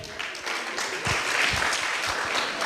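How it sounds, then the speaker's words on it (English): Children and adults at a West Indies kiddy cricket camp applaud as names are called, a steady crowd clapping that swells slightly and holds without talk over it. "Claps getting weaker again."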